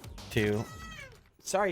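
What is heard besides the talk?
pet cat meowing angrily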